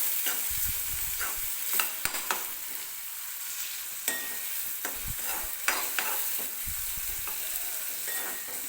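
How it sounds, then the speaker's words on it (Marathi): Chopped onion sizzles and fries in a pan while being stirred for upma, a steady crackling hiss with scraping stir strokes throughout, close and fairly loud, no talking. "तर कांदा हलकासा मऊ होईपर्यंत आपल्याला भाजून घ्यायचा आहे"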